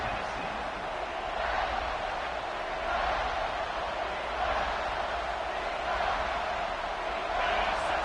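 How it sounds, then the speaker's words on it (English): A stadium crowd in an NCAA football video game roars steadily in the background during a goal-line defensive stand, with a broad wash of noise that swells slightly at moments and a commentator talking over it. "this big crowd doing everything possible to inspire this defense down here"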